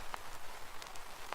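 A vinyl crackle effect layered in a beat: soft, continuous surface hiss dotted with a few brief pops, faint and alone.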